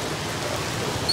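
Heavy rain pours down in a dense, even hiss, steady and loud throughout the brief moment with no voices.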